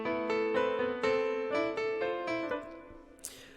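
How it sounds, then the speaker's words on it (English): A dry piano melody in FL Studio, played without effects for a dark sample, with a slow series of sustained notes and chords struck at steady intervals, clear and alone, ending in a brief noisy swell. "So the piano sounds like this without the effects."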